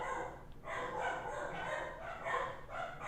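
Dog barking repeatedly in short bursts, moderately close and fairly loud, with no talk over it.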